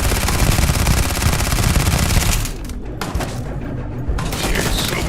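Rapid gunfire in the video game Starfield, a dense, loud, continuous barrage for about two and a half seconds that thins into scattered separate shots over a steady background din.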